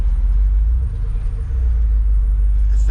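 A Chevrolet Monte Carlo SS engine runs while the car is driving, giving a deep, steady, loud low rumble with a slight dip partway through.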